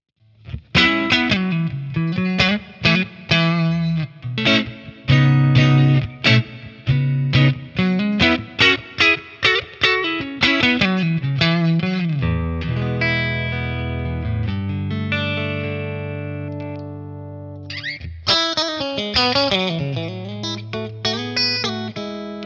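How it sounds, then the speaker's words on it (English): A Fender Stratocaster through a Fender Pano Verb tube amp on a clean, warm setting plays a run of plucked notes, then sustained chords ringing out and a few final strums. "let's hear some tones with the Stratocaster. We're gonna start with Clean Warm."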